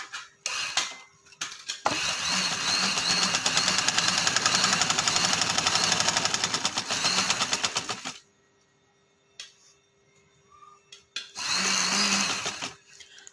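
A sewing machine sews pocket fabric for a kurti with a loud, rapid, rattling run of about six seconds, a quiet gap with faint clicks, then a second brief burst.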